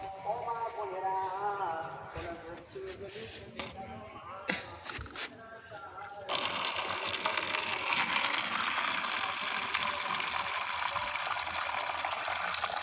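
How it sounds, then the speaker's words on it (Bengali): Tap water runs steadily into a bowl for watering a dragon fruit plant, a continuous gushing splash starting about midway and holding loud to the end, after an earlier stretch of speech and clatter. "এই বাটিতে করে একটু জল দিয়ে দেব। এখানে কল রয়েছে।"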